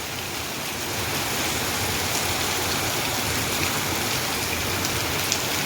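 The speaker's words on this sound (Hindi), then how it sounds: "अभी सुबह के 5 बज रहे हैं और कितना ज़ोर का बारिश हो रहा है।" Heavy rain falling steadily on a road at dawn, a dense, even hiss of countless drops that stays loud and unbroken throughout with no voices.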